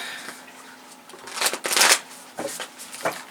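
A Moonology oracle card deck is shuffled by hand, with soft papery riffles and flutters building to a louder burst midway, then a few shorter shuffles near the end, close up and without speech.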